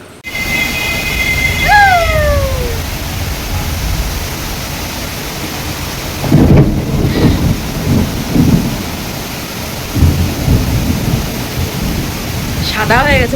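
Heavy rain pours in a steady broadband hiss during a dark downpour while loud thunder rumbles in low bursts midway through, with a few brief whistling tones early on.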